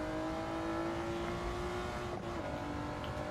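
A Porsche 935/78 Moby Dick race car in Gran Turismo 7 holds a loud, steady engine drone at high revs, with a slight dip and tire noise midway and no talking.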